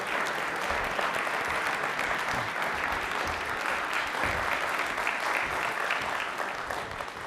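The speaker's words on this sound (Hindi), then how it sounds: "प्लीज़ एक बार तालियां जोरदार हास्मिक के लिए।" Studio audience applause rings out steadily to welcome guest Hasmik onto the stage of a television talk show, a dense, even clapping that continues for several seconds without talk.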